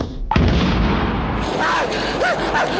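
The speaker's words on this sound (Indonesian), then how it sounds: "Ledakan itu ternyata mengakibatkan burung peliharaan Boris mengalami luka bakar yang sangat parah." A car explodes in an animated story, one sharp heavy boom followed by a rumbling roar that slowly fades, with a few faint squeaky tones rising in the tail.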